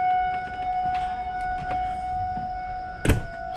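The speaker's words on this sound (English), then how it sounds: "got tornado sirens going here" Tornado sirens wail steadily in the distance during a storm near a parked RV, a sustained tonal drone with a soft thump near the end and no talk.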